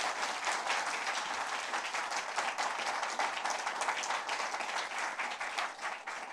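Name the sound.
audience applause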